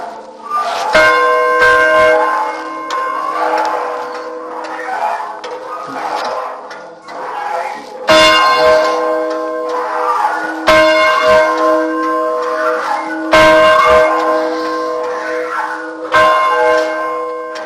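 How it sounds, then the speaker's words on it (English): Large church bells ring out in repeated loud, resonant strikes, each tolling hum lingering and overlapping the next, with no voices. "This bell is also a church bell."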